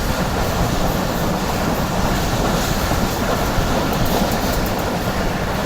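The Karakoram Express rolls along the rails with a steady, loud rumble and rattle of carriages heard from on board, continuous throughout without talk.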